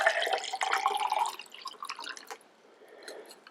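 Liquid poured into a plastic bag for a gravity goo kit, a close, quiet trickle and splash that tapers off into faint drips.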